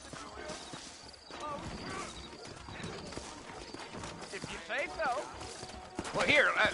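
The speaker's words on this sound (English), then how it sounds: "I got the horses saddled up and ready out front." Horse hooves clip-clopping on a trail in a Western video game, a steady rhythmic trot under game music and a character's spoken dialogue, with a horse whinnying near the end.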